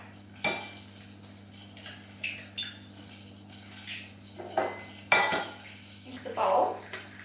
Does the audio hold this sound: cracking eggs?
yes